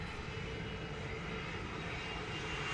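A Southwest Airlines jet at Dallas Love Field gives off a continuous broad engine roar from a distance, steady and unbroken with no voices.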